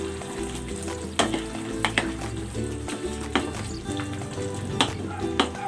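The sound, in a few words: potatoes and carrots added to simmering beef caldereta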